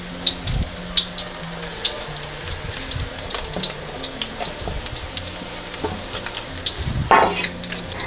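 Garlic frying in oil in a pan, a continuous crackling sizzle with scattered pops and small scraping or stirring sounds, close and steady, with a brief louder burst near the end.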